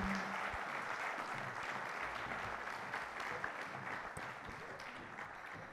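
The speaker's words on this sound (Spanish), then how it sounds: "Les pido por favor un aplauso para nuestro invitado." An audience at the third International Congress of Philosophy of Law applauds an invited guest, with steady, even clapping from many hands, heard at a low, somewhat distant level for several seconds.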